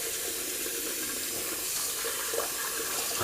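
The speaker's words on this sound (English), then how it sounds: "just gonna rinse out that bowl." Water runs steadily from a tap into a sink while a heavy shaving soap bowl is rinsed out, a continuous close splashing hiss with no talking.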